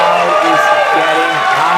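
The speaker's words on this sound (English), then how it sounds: "Crowd is getting hype." Crowd noise at the 2023 Professional Air Hockey World Championship finals, a steady loud roar of voices and cheering under close commentary talk, with no breaks across the short stretch.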